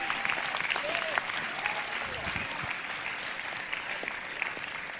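A church congregation claps hands at a sermon, a broad continuous wash of clapping with some cheering voices mixed in, gradually easing off.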